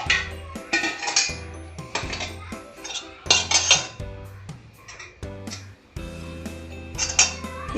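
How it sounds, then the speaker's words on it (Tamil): Kitchen utensils clatter and clink against pots while melted jaggery syrup is strained, a series of close, sharp metallic knocks and scrapes in an irregular rhythm with brief pauses, no talking. "இப்போ இதை நம்ம வடிகட்டி எடுத்துக்கலாம்."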